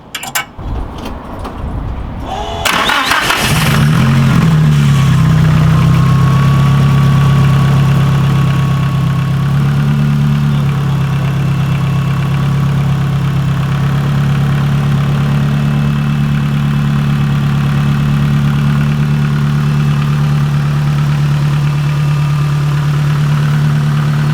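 A car engine cranks after a brief rattle of keys, catches within a few seconds and settles into a loud, steady, close idle that runs with a constant hum for the rest of the clip.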